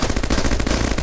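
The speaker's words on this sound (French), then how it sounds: "je tire à la mitrailleuse" Rapid automatic machine-gun fire from the Bionic Dues video game, a dense, steady stream of loud, closely spaced shots that runs without a break for about a second.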